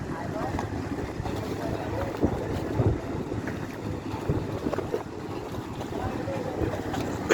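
A small passenger launch draws close on the rough, wave-tossed Meghna river, its low engine rumble mixed with heavy wind buffeting and splashing water, steady and loud throughout.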